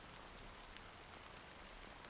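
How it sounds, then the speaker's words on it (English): Soft, steady rain pours in the video game Honkai Star Rail, a faint, even hiss of falling drops with no other sounds. "how long has this rain been going on for?"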